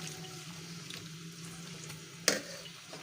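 Chopped onion stirred in warm ghee in a home kitchen pan, a soft steady sizzle and fry with faint scraping, one sharp clink of the spoon partway through, no voices.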